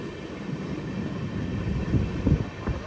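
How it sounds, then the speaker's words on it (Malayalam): The Thiruvananthapuram–Mangaluru Express pulls into Kottikulam railway station in Kerala with a low, rumbling roll that swells slightly, heard from nearby with wind noise and no voices. "ട്രെയിൻ ഇപ്പോൾ കോട്ടിക്കുളം സ്റ്റേഷനിലേക്ക് എത്തിയേ."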